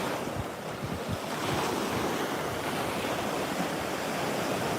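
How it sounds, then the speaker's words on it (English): Ocean waves at Fort Lauderdale Beach roll in as a constant broad roar of surf, mixed with heavy wind buffeting the microphone, with no voices. "I am at Fort Lauderdale Beach."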